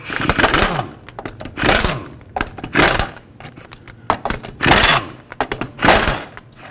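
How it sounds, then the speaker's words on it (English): A 19mm socket on a ratchet or impact tool spins off lug nut covers on a 2006-2011 Chevrolet HHR steel wheel, in five loud, close, whirring metallic bursts separated by short pauses, with no talking. "you'll have to remove these lug nut covers first with a 19mm socket."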